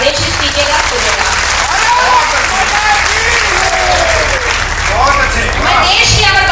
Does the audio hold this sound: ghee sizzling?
no